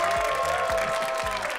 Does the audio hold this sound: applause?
yes